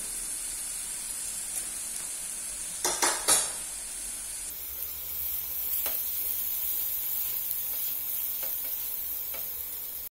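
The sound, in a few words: chopped onion sautéing in a pan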